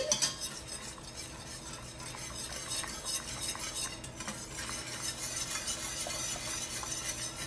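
A whisk scrapes and swishes steadily through a thickening mixture in a pot over medium heat, soft continuous stirring with faint clinks against the metal, no voices.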